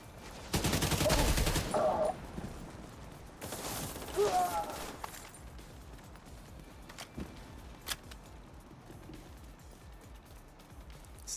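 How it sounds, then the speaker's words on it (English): Bursts of rapid gunfire from allied players in a video game, loudest in two volleys near the start, then scattered fainter shots and mechanical clicks, with no talk. "I'm gonna get out of the way of my allies just so they can freely shoot."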